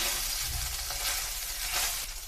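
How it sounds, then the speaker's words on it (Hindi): Slices of bread fry in a pan over low gas, giving a steady, soft sizzle, close and quiet, alone without talk. "और अच्छी से इसको सेकेंगे, फ्राई करेंगे"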